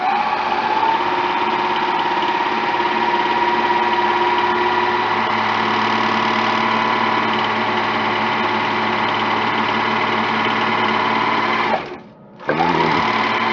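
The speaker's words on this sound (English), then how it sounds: "It's called an overlocker." An overlocker sewing machine runs steadily and loudly while trimming and overlocking fabric edges, a continuous high mechanical whir that briefly stops near the end before starting again.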